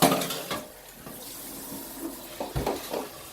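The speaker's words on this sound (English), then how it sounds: "So we're gonna rinse it off with cold water." Cold tap water running over cooked gluten-free pasta in a kitchen sink, a steady splashing stream with a few clinks of cookware near the end.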